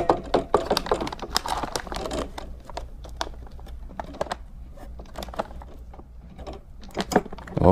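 A food storage machine crimping a lid onto a long-term storage container, heard as a close, busy series of sharp mechanical clicks and clacks, with dense bursts early and a lighter patter after.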